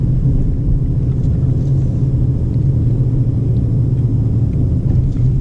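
Car engine in third gear at about 35 km/h on a 50 km/h town road, a steady loud low rumble with road noise that holds constant throughout, no voices.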